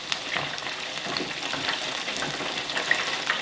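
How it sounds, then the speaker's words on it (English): Buttermilk-battered chicken pieces bubble and sizzle in hot frying oil, a dense, even crackle close by with no voices. "You can hear the bubbling and boiling of the liquid in these."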